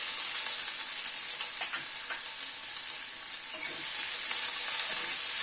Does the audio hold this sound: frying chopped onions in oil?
yes